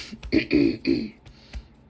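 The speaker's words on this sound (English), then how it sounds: "I'm still having coughing fits" A short, close burst of coughing or throat clearing, a few harsh rasping pulses lasting about a second.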